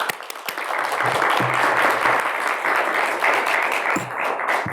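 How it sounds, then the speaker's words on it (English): Applause rises from an audience at a school district meeting, building quickly after a few scattered claps and holding steady and full, with a few voices beneath it. "Let's give them a round of applause."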